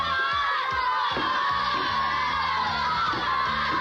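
A crowd of children cheers and shouts continuously at a 1992 kids' television game show as contestants throw beanbags into buckets, a loud, sustained wall of excited yelling and whoops.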